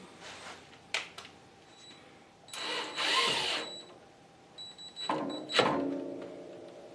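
A screw is driven straight into a new hole in a Mustang hood insert: two short whirring bursts of a power driver, close by in a quiet room, with a few light clicks around them.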